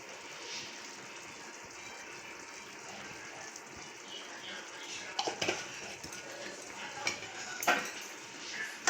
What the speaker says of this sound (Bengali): হালকা একটু নাড়াচাড়া করে নেব।